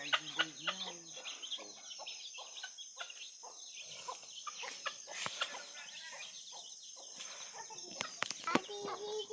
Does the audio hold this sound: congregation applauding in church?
no